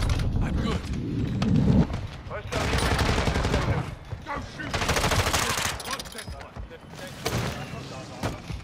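Warzone 2 gunfire in loud bursts of rapid automatic shots, broken by short pauses, with a player's voice talking over parts of it.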